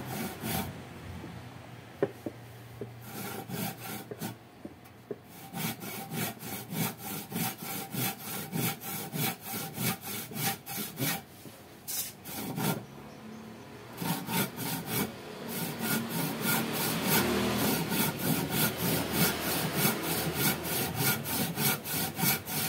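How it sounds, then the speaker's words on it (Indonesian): A hand saw cuts through wood for an acoustic guitar neck, with rhythmic back-and-forth rasping strokes that pause twice and then speed up into a faster, louder, steady stroke pattern close to the listener. "Dan sini bisa kita gunakan gergaji potong biasa ya."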